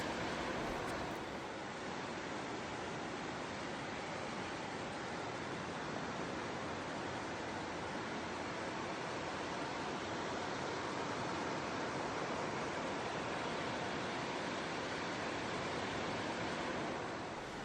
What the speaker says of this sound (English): to watch and listen to the waves